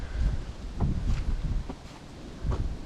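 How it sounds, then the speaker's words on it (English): Gusty wind buffets the microphone at a campsite, rising and falling in low rumbling bursts with a faint rustle beneath, and no one speaks. "one thing we're going to contend with is some wind"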